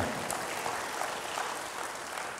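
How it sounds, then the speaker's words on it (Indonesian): Congregation clapping during a church service, a soft, steady patter of many hands heard at a distance and fairly quiet throughout. "Berikan tepuk tangan bagi Tuhan."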